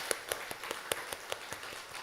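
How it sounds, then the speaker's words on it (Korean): Sparse, evenly spaced hand claps in a Korean church during a Sunday morning worship service, a few people clapping at a quiet, moderate level with no talking. "박수 한번 주셔야죠."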